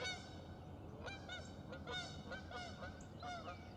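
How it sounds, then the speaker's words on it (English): Geese honking outdoors during a fishing outing, a flock calling in repeated overlapping nasal honks, fairly loud and steady across the whole stretch. "Holler at them geese, tell them we're talking."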